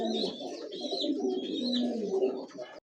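Two pigeons coo softly and continuously at close range, their low rolling calls overlapping with faint higher chirps, with no talking.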